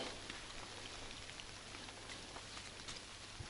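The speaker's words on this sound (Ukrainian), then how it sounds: "Пішов дощик, бачите, друзі." Steady light rain patters across the whole clip, a soft broadband hiss with scattered drop ticks and a low hum underneath.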